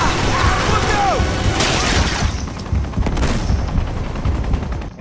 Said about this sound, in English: Avoid the gun firing.